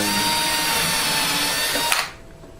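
A power drill drives screws into the body of a custom electric guitar, giving a steady close whirring drone that stops abruptly near the end.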